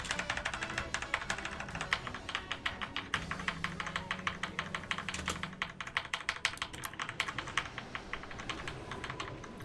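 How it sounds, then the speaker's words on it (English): Loud, fast computer keyboard typing clatters nonstop for the whole stretch, dense rapid keystrokes up close with no talk over them, during a World of Warcraft raid in Icecrown Citadel. "Your keyboard is kind of loud, bro."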